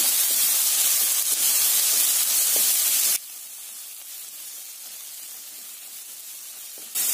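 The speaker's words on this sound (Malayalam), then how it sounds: "ഈ തക്കാളിയും കൂടെ നല്ലതായിട്ടൊന്ന് വഴറ്റി എടുക്കണം" Chopped tomatoes and onions sauté in a pan for chicken vattayappam, giving a continuous close hiss of sizzling that drops abruptly to a softer level midway, then surges again at the end.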